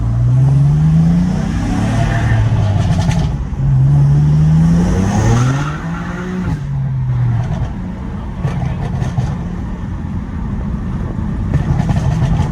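A BMW F80 M3 running E85 with fresh spark plugs pulls hard on a quick drive, its engine note climbing through rising revs with shifts between pulls, loud and close from inside the car over road and tire roar.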